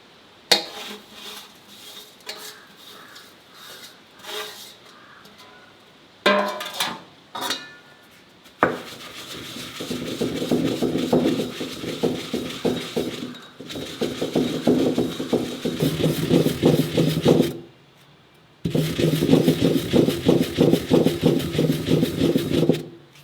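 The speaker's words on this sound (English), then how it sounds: "Now grind in a mixer or in a mortar and pestle." Sun-dried beetroot is ground to powder in a mixer, giving a loud whirring grind in several long bursts broken by short pauses, with some clattering of pieces at the start.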